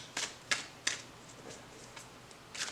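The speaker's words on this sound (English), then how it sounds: "So I'm still learning to overhand shuffle." Tarot cards are shuffled overhand, producing a handful of quick, soft papery riffles and slaps in an irregular rhythm. The sound is close and fairly quiet.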